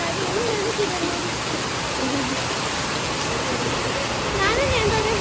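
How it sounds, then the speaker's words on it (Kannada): Very heavy rain pours down and drums steadily around a parked vehicle, a dense unbroken roar with a voice talking faintly over it. "ತುಂಬ ಅಂದರೆ ತುಂಬ ಮಳೆ ಬರ್ತಾ ಇದೆ."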